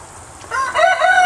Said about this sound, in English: Rooster had to say something.